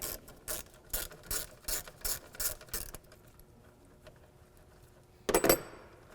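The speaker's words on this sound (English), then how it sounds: "Just take this 10mm socket, take this bolt out." Ratchet turning a 10mm socket to remove a bolt on a 1998-2010 Volkswagen Beetle, a run of crisp close clicking bursts in quick rhythm, then a pause and one final sharp metallic rattle.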